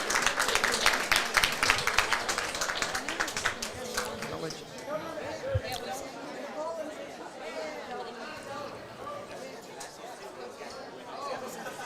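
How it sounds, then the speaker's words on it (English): Crowd applause and cheering at a high school bowling team finals awards ceremony, loud clapping in the opening seconds that fades into general chatter and murmuring. "Big round of applause for the Eagles."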